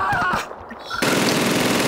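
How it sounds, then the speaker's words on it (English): MG42 machine gun fire in the video game Call of Duty 2: a dense, continuous rattling burst that cuts in abruptly after a brief quieter stretch, loud and harsh. "Every mission, there's an MG42. There's a machine gun."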